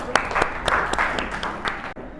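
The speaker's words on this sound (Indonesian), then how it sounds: "Beri tepuk tangan untuk kita semuanya." Students in a classroom clap their hands together in a short burst of applause, brisk and fairly close, with voices mixed into the clapping.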